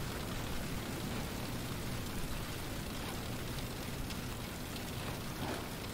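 Hail falling in a storm, a dense, unbroken hiss of pattering that stays at an even level throughout.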